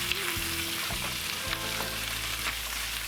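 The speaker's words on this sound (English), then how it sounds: "we're gonna add the fresh sardines to the charred lemon oil" Fresh sardines sizzle and crackle in charred lemon olive oil, a close, dense frying hiss with a few soft pops, the pan sound running alone without talk.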